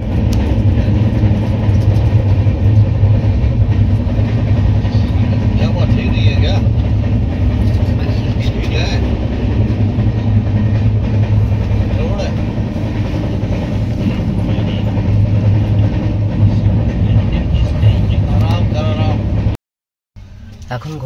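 Kumbh Express train running on rails as it reaches Moradabad station: a loud, steady rumble and rattle that fills the clip, with voices talking underneath, cutting out briefly near the end.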